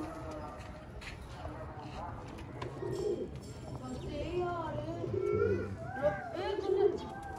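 A pigeon coos in soft, rolling phrases that rise and fall, close and moderately loud, while people talk nearby in the background.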